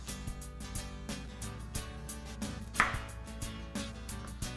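Knife chopping carrot and bell pepper into large pieces on a cutting board, a rapid run of crisp, evenly spaced knocks, close and fairly quiet over a faint steady background hum.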